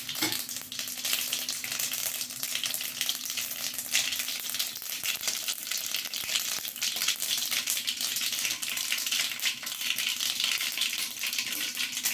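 Mustard seeds splutter in hot oil, sizzling steadily with rapid crackling pops and spits, close and continuous, with a faint low hum beneath and nobody speaking.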